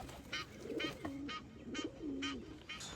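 Pigeons cooing outdoors in the morning, a few soft, rolling coos repeating in a slow rhythm against a faint background with chirpy high accents.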